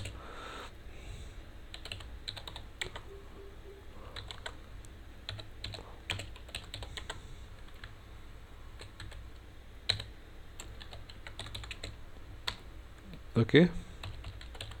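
Typing on a computer keyboard while writing a message into a socket client program, steady scattered key clicks with a few louder taps near the end, with a brief spoken word at the start.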